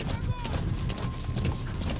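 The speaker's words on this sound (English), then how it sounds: "Come on, horse. Faster, faster, faster." Horse galloping in Metal Gear Solid V: The Phantom Pain, rapid clip-clop hoofbeats running steadily throughout, close and fairly loud, with game sounds and a voice talking over them.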